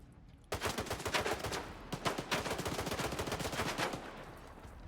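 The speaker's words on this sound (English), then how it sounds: "Alright, why are they shooting at me?" Gunfire in the video game STALKER 2, rapid automatic bursts that start abruptly and continue as a dense, loud volley of close shots for several seconds.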